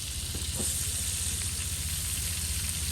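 Garlic dropped into a pan of hot margarine sizzles and fries loudly and steadily, a close continuous crackle while an igado dish is started, with no voices.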